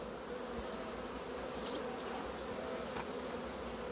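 A dense, steady drone of many bees buzzing inside a hive box, close and continuous with no talking.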